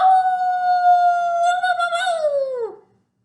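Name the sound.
imitated coyote howl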